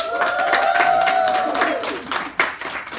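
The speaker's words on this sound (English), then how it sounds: "Clap it up for Cairo" Guests at a toddler's second birthday party clap together in a steady, close burst, with a drawn-out whoop over it at first and a voice speaking near the end.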